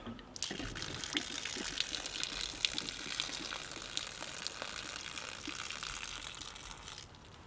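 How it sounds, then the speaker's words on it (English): Water drains from a camper's hose during winterizing of a Forest River Wolfpack, a close trickling and splashing flow with small gurgles that runs steadily for several seconds before stopping. "I'm going to drain this hose."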